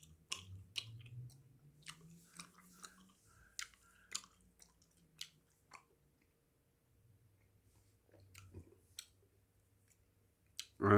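Hubba Bubba Max bubble gum being chewed close up, with faint, sparse wet clicks and squishy mouth sounds spread over a quiet background.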